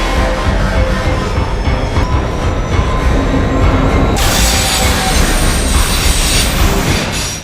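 Underground train from the film Resident Evil, a loud, close, continuous roar of wheels on rails with metallic squealing that grows harsher and brighter partway through.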